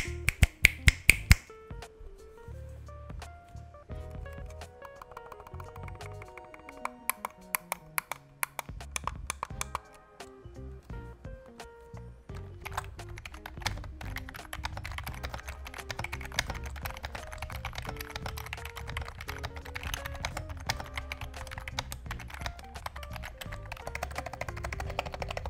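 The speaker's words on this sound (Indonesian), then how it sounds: "berikut sound test dari keyboard dan mouse-nya" Typing on a Fantech Go Mochi 65 compact keyboard and clicking a Fantech WK896 mouse, a steady run of close, crisp key clacks and taps over soft background music.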